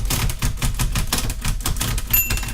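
A 1939 Olympia Model 8 manual typewriter is being operated, its keys clacking in a fast, steady burst of loud, close-up strikes.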